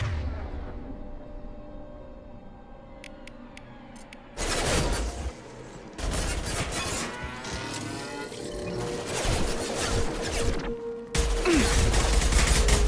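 Bursts of video game gunfire aimed at hostile mechs, loud rapid volleys starting partway through and continuing in several dense stretches over a low ambient hum.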